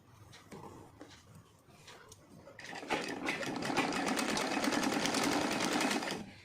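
A sewing machine stitches the neckline of a kurti made from an old silk saree, starting after light rustling and running in one steady, close, even burst of about three seconds before stopping.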